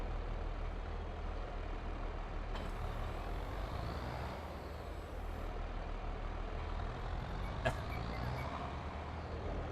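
A Renault tractor with a front weight block idles in the Farming Simulator video game, a steady low mechanical drone that stays constant throughout, with a faint click near the end and no voices.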